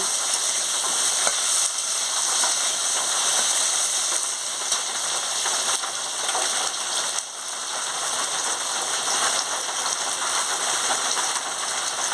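Elephant apple (chalta) fries in a pan with salt, giving a steady, dense sizzle and hiss that runs loud and unbroken for the whole stretch, with no voices.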